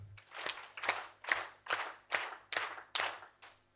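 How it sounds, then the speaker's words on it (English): Seven slow, evenly spaced claps from an audience at a higher education cooperation event, a rhythmic group clap in a large room, fairly faint and without talk. "7 claps"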